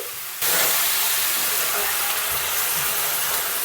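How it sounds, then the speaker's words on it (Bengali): Water poured into a hot pan of bottle gourd sets off a loud, steady hiss of sizzling and steam that starts abruptly and holds throughout. "অল্প পরিমাণ আমি জল দিয়ে দিচ্ছি"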